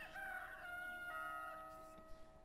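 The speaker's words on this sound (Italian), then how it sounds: "Un gallo" Rooster crowing in the Professor Layton video game, a drawn-out cock-a-doodle-doo with bright tonal harmonics, clean and isolated, fading into quiet background.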